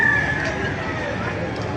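Chickens and roosters at the Baliuag poultry market in Bulacan, a dense, steady din of clucking and crowing fowl with a brief crow near the start, mixed with market crowd babble throughout.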